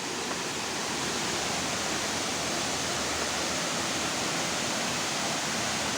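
Hinulugang Taktak waterfall rushes loudly and steadily, a dense unbroken roar of falling water with no voices over it.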